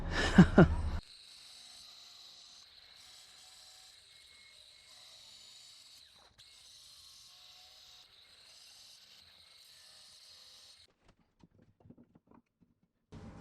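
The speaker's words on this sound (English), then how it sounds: "outside we went to cut it with the grinder" An angle grinder wet cutting a quartz countertop outdoors gives a steady, thin high whine that runs for about ten seconds after a brief loud burst at the start, then cuts off into quiet handling noises.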